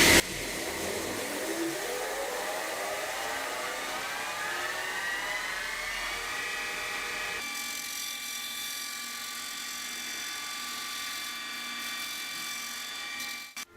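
An electric belt grinder spins up to very high speed, its whine climbing steadily in pitch over several seconds into a loud sustained whir with a hint of rattle, close by and without talk.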